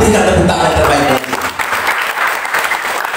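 Loud congregation applause fills a church service, dense and steady, with cheering voices mixed in as it continues.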